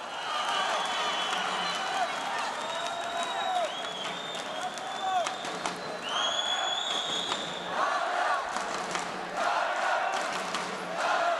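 Kazakh crowd at an amateur boxing bout in Almaty, roaring and cheering continuously at a steady loud level, with whistles and shouts rising over the din for the whole stretch.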